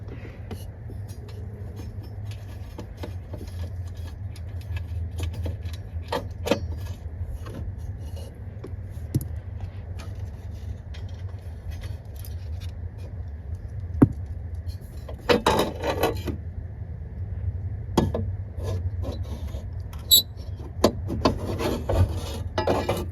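Bolts are removed from a 2013 Tahoe dashboard bracket with a 10mm socket, heard as scattered rasping, ratcheting and rubbing bursts over a low steady hum. The sounds are close and irregular, with a busier stretch in the second half.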